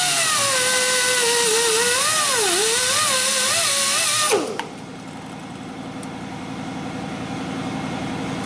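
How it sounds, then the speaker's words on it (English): A power tool spins a wire wheel against the rear axle seal surface of a 2005 Ford F-150, a loud continuous whining grind with wavering pitch that cuts off abruptly midway, leaving a lower steady hum. "So we're gonna go around there and just hit it with a wire wheel."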